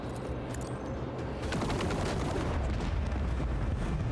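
Heavy sustained gunfire from a strafing run in the space-combat video game Rogue Trader, a dense continuous roar of rapid shots that swells louder partway through.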